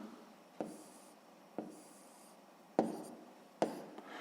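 Pen strokes on paper while numbers are written out for a sixth-grade maths exercise, quiet scratching broken by a few soft taps, close and faint, with no voices.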